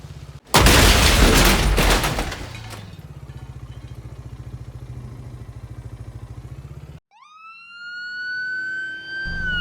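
An ambulance siren sounds in the Farming Simulator 22 video game after a loud crash and clatter, first as a rapid, pulsing wail and then as a rising electronic whoop, close and loud, with no talking.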